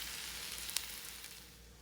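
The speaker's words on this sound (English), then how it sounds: "I've let them cool just a little bit, but they're still sizzling." Green beans sizzling in a pan, a soft continuous crackle and hiss with one brief sharp pop, fairly quiet and close.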